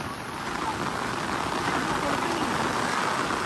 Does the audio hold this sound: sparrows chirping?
no